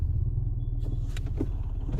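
Car engine idling low and steady during a driving lesson with first gear engaged, a continuous close rumble with a few faint clicks and small mechanical noises.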